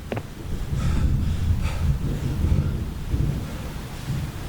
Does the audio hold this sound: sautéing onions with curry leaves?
no